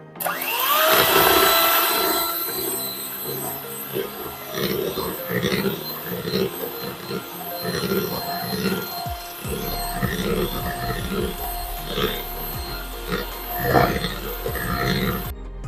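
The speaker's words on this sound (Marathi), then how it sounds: "पुन्हा आता आपण हे दोन ते तीन मिनिटांसाठी चांगलं व्हिप करून घेऊया" An electric beater whips a custard and milk mixture for homemade vanilla ice cream, a steady whirring drone with some rattling that runs throughout, joined by someone talking over it.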